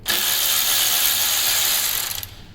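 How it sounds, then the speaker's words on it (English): Ratchet wrench fitted with a T25 bit spinning out sensor bolts on a C63 AMG M156 engine's fuel rail pressure sensor, one steady close clicking run of about two seconds, alone with no talk. "We're going to attach that to our ratchet tool, and we're going to get this sensor off."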